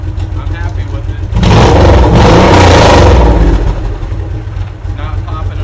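Exhaust of a 2005 Honda VTX1800C S3 motorcycle, desmogged and fitted with a Cobra FI2000, rumbling at idle before a loud, close rev swells for about two seconds and then settles back to a steady idle.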